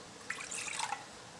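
Half a cup of water poured into a soy sauce mixture for a Korean spicy pork sauce, a brief, faint splash and trickle lasting under a second, then quiet, with no talking.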